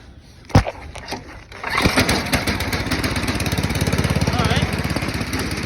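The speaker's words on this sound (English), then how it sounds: "So what we're gonna do is we're gonna see if this engine is gonna run" Salvaged snowblower engine cranks with a few sharp pulls, then catches and settles into a loud, steady running chug with a rapid even pulse, heard close up without any talking.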